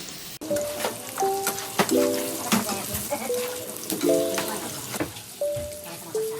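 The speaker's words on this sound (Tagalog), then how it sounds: "uunahin nating iprito itong ating carrots, patatas at saka green bell pepper" Carrots, potatoes and green bell pepper crackle and sizzle as they fry in hot oil with scattered pops, while a voice talks over it in short phrases.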